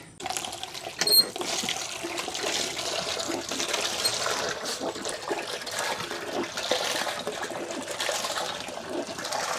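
Water runs steadily for the whole stretch, a broad hissing splash like a tap pouring, with a brief high electronic beep near the start.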